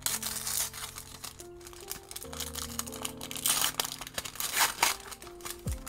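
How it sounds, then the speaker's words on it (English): Lorcana promo card packs from the First Chapter gift set are torn open by hand, giving close, crisp crinkling and ripping of foil wrappers in uneven bursts over faint background music. "let me rip open the promos as well"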